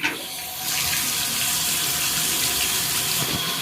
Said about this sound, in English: I'm gonna go get in the shower right now, so let's get the water cranking up now